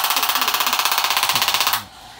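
A Z Wave cellulite treatment device runs with a rapid, even mechanical clatter of repeated pulses, loud and close for nearly two seconds before cutting off to quiet room tone, with faint voices underneath.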